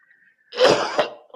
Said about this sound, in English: excuse me, my cough.